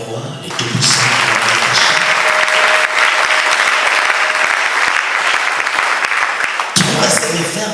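A church congregation at a Sunday service breaks into loud, sustained applause and acclamation, close and dense for several seconds before it cuts off, with voices mixed into the clapping.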